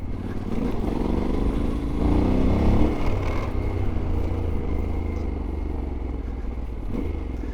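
A heavy motorcycle engine rumbles at low, steady revs, with occasional clattering as it rolls slowly over sharp rocks.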